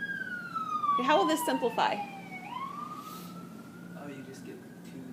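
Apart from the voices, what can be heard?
emergency sirens outside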